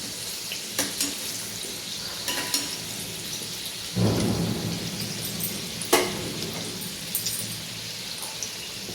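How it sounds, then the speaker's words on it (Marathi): Karanji pastries deep-frying in oil over a low flame give a steady crackling bubble, swelling at moments into louder bursts as the pastries are turned, with no voices. "छान लाल होईपर्यंत तळायच्या बारीक गॅसवर"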